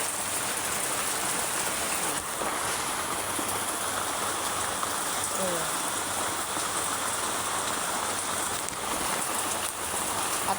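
Rain falls steadily, a broad even hiss of drops on surfaces both outside and leaking inside a house, holding constant throughout with a few faint background sounds.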